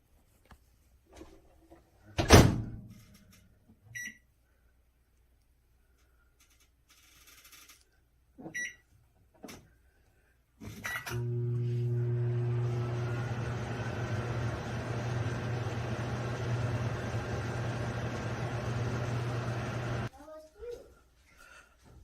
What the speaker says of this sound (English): Put hothead cap in microwave for 30 seconds or until it's warm.